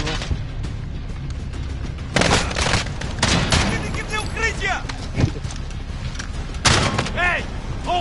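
Dense gunfire bursts and booming explosions from the video game Modern Warfare, a loud continuous battle soundscape with shouted voices over the fire.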